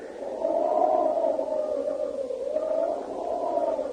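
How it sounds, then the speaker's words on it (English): A howling wind sound effect from an old radio drama wails in a low, wavering moan that rises and falls continuously over a soft, hissy background. "You hear the wind?"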